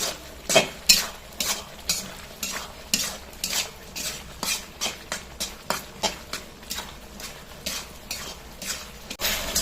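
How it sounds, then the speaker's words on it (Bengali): Masala for a restaurant-style pangas fish curry is stirred steadily in a pan, a spoon scraping and knocking against metal in a regular rhythm over a soft sizzle of oil, close and alone without voices. "এভাবে অনবরত যতক্ষণ না পর্যন্ত সম্পূর্ণ তেল বের হয়ে আসতেছে ততক্ষণ পর্যন্ত কষতে থাকবে"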